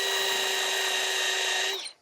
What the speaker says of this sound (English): I think the wire wheel can help us out with that one.